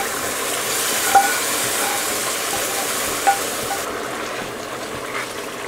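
Tempering of fried onion, garlic and dried chili sizzling in hot oil as it goes into moong dal, a steady broad hiss with a couple of small pops, fading slightly toward the end.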